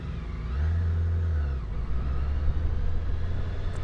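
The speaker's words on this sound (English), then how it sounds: "It's uncanny for a motorcycle to have an engine this smooth." A 2022 BMW K 1600 GT motorcycle engine under way, a smooth low hum with a steady drone that dips and then rises again as the rider accelerates, with no talk over it.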